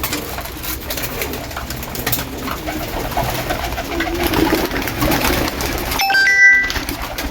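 Pigeons coo continuously and close by while drinking water, a low throaty murmur filling the scene, with a brief electronic chime near the end.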